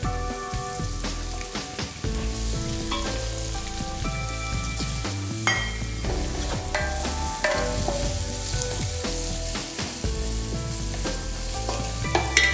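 Tomatoes frying in a pan for a Kerala-style prawn biryani masala, a steady close sizzle with scraping stir strokes and tonal clinks throughout, no voices.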